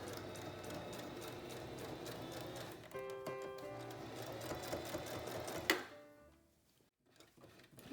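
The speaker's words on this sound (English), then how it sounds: "keep your pins in until the machine finishes going over your pleats" A sewing machine runs steadily, stitching over pinned pleats on a fabric mask, its rapid needle rhythm loud and close for several seconds before stopping abruptly and leaving near silence.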